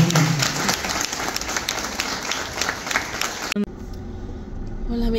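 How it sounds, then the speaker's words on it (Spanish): Applause rises for a newly baptized man at a baptism, a dense wash of clapping that runs for about three and a half seconds before cutting off abruptly, leaving quieter outdoor background noise. "Un aplauso para nuestro hermano."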